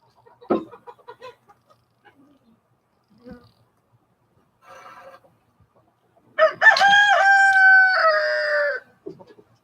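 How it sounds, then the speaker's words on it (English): Roosters crow loudly and at length in the evening, with harmonic calls near the end, after scattered clucks and brief faint noises earlier. "my rooster's internal clocks are backwards because they're crowing now instead of in the morning"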